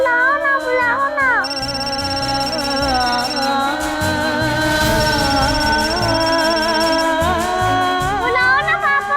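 A phone ringtone trills and repeats over a call, with a steady electronic tone and a voice speaking over it in a home setting.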